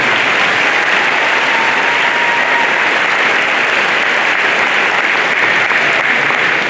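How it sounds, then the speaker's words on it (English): Sustained, dense applause from a large audience at a high school commencement for the graduating class, loud and even from start to finish with no break. "They deserve a round of applause."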